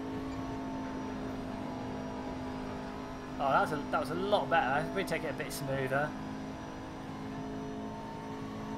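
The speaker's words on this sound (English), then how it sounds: "This car actually sounds pretty good as well" A steady mechanical engine whine from a McLaren MP4-12C race car in the Assetto Corsa racing game at Spa drones underneath while someone talks briefly in the middle, the tone holding level throughout.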